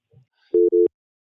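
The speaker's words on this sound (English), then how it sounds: "it just disconnected the phone call" A telephone busy signal as a call drops: two loud steady beeps in quick succession, close and clear, after a brief faint low sound.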